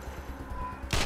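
Gunfire in the post-apocalyptic video game Wasteland 2: a sharp, loud burst of shots erupts at the very end after a quiet, low ambient bed, with no talk in the clip.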